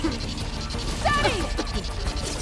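Weapon reload in the video game Horizon Forbidden West: a short mechanical ratcheting click and clack over a steady bed of game ambience.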